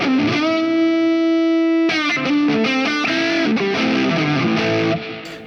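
An electric guitar rings out with echoing repeats and a lingering reverberant tail, a sustained chord followed by a run of notes that trail off.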